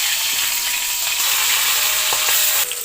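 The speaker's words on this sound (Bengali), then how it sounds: "মাছগুলা একটু ভালো করে কড়া করে ভেজে নিব" Rohu fish pieces fry hard in hot oil in a pan, a steady dense sizzle with crackling pops running continuously throughout, close and fairly loud.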